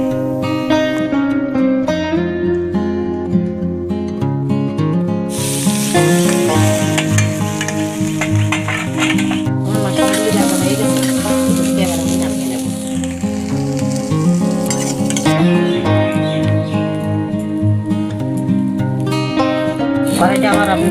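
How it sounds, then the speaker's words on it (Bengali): Boiled mushrooms fry in hot oil in a pan, a steady close sizzle with stirring scrapes under loud background music. "বাকি তেলগুলিতে আমি সিদ্ধ করা মাশরুমগুলিকে ভেজে নেব"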